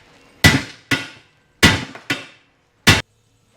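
Five heavy blows from a big hammer on a wheel, sharp loud metallic impacts spaced irregularly over a few seconds, with brief ringing after each.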